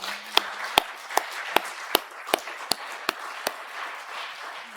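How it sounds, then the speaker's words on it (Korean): A church congregation claps in unison during a service, about ten sharp, evenly spaced claps in a steady rhythm that ring in a reverberant hall with no talking. "박수 한번 올려드립니다."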